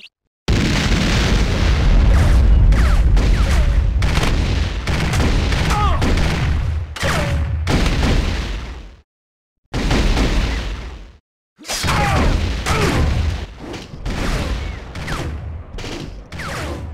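Loud, dense, almost continuous volleys of plasma rifle fire from a video game, with booming impacts and explosions layered in, broken by two brief silent pauses before the barrage resumes.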